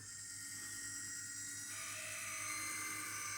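A Zeiss Ikon Voigtländer MS8 super 8 film camera's light meter and mechanism give a steady, close, continuous whir with a faint high tone that shifts slightly partway through.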